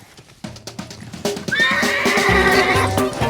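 A young colt raised from a stud horse whinnies loudly up close, with a rising neigh and hoof clip-clops beginning around halfway through the clip.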